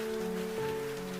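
Steady rain falling on leaves, an even soft patter beneath a low sustained musical tone, with no voices.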